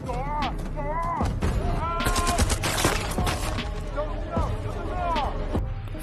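Several sharp gunshots crack out amid dense, overlapping film sound, with voices and loud effects running throughout.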